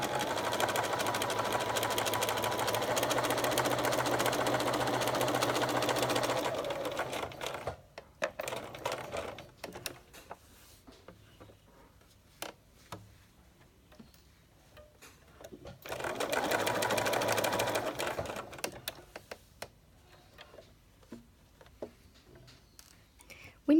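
A sewing machine stitches a welt pocket in knit fabric in two steady, close runs of rapid needle chatter, with a quieter pause of small clicks and handling between them.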